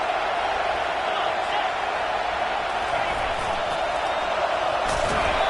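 A football stadium crowd at an LSU versus Ohio game roars in a steady, dense wash of cheering, with a commentator talking over it.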